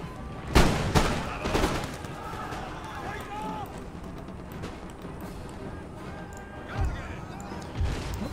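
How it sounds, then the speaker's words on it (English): Musket volleys in the Empire Total War video game, a few sharp booming shots up front and more near the end, set against battle ambience with someone talking over it. "they're shooting the 2nd Regiment of Foot at point blank range"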